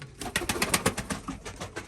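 Breeding pigeons coo close by in a short run of soft, rhythmic throaty pulses, several quick notes in a row with no voices over them.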